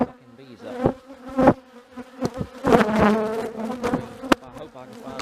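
Dense buzzing of honey bees close by as a colony is removed, a swarm droning and rising in bursts, with some scraping and handling noises mixed in.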